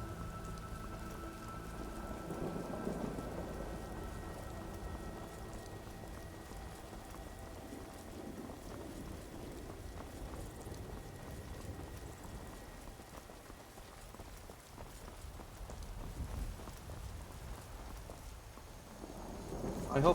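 Steady rainfall pattering on surfaces in Skyrim, with low thunder rumbling beneath, a constant quiet wash that holds for the whole stretch.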